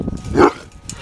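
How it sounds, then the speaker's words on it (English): A dog barks on command with a single sharp, close bark amid brief rustling and movement. "Bark twice if you're ready."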